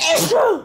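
A short, sharp sneeze bursts out close by, a breathy noisy onset followed by a voiced, falling exhalation.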